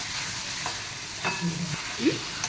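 Roasted eggplant bharta mixture being stirred in a hot pan, with a soft background sizzle and a few close scrapes and light clinks of the spoon against the pan.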